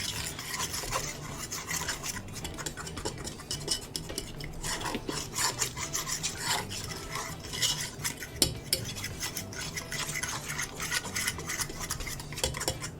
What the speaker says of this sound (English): because we need to whisk this a little bit.